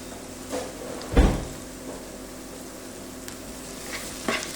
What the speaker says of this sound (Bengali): এখন যখন পেঁয়াজকে একটু ঘুরিয়ে নেব